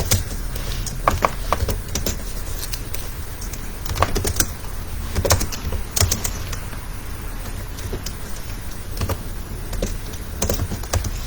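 Irregular bursts of clicks from a computer keyboard as someone types out a basic JavaScript program, close and clear, with short pauses between runs of keystrokes and no talking.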